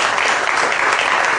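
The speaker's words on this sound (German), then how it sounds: "Das ist der Applaus für unsere Netzjury." Studio audience applause for an online jury on a German TV talk show, a dense steady clapping that fills the short moment loudly without any speech.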